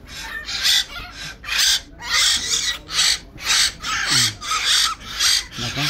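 Chittagong myna birds feeding in a cage give repeated loud, harsh calls in a steady rhythm of bursts, close by, with a faint voice underneath.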